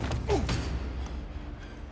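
Stuck door creaking open in the action game Horizon Zero Dawn, a short strained creak with a sliding pitch and a soft thud, followed by quiet room tone.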